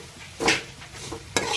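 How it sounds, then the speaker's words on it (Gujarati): Semolina roasting in hot ghee over a low flame, with soft stirring scrapes and gentle sizzling, two brief louder strokes of the spoon against the pan, close and quiet. "ઘી ગરમ થઈ ગયું અને ગેસ ધીમો કરી નાખીને હવે નાખી રવો અને આપણે શેકી નાખવાનો છે"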